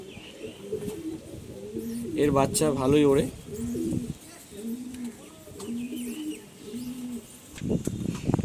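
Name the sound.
pigeon cooing in loft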